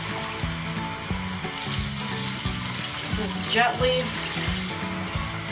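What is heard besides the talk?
pouring water from a cup to rinse a skinny pig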